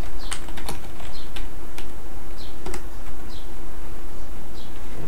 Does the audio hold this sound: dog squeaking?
no